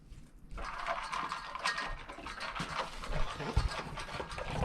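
A dog on a dairy farm pants steadily in quick rhythmic breaths, nearby, against a noisy background of faint mechanical clatter and rattling.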